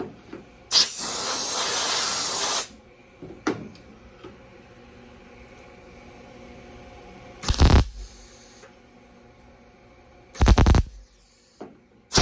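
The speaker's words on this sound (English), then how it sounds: "I'm going to show you the way I learned to attach and weld thin metal panels with the MIG welder." A MIG welder tacks thin metal panels into a VW Beetle during rust repair, giving a long hissing, crackling burst followed by two shorter bursts separated by quiet pauses.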